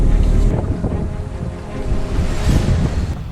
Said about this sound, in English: heading into Rodney Bay on Sailing Vessel Intrepid